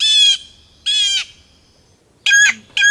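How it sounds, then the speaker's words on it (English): Veery, a thrush, giving repeated call notes in woodland: four short, sharp, buzzy downslurred calls spaced apart, clear and fairly close over near silence. "We're hearing the call note of a veery, which is a member of the thrush family."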